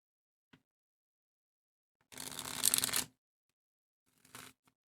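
Tarot cards shuffled by hand at a card reading, one soft short riffle burst in the middle followed by a brief lighter shuffle near the end, with quiet pauses around them.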